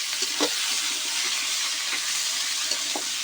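A spice paste is stirred into a Katla fish curry with green banana as it fries in a pan. A dense, steady sizzle fills the scene, with a few soft spoon scrapes and knocks, close and with no talk.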